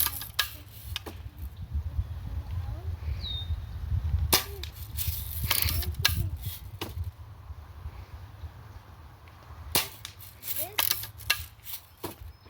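Air gun shots are fired at a target in several sharp, separate cracks spaced a few seconds apart over a low background rumble, with faint talk in between.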